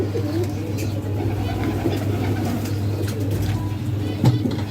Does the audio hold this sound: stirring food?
no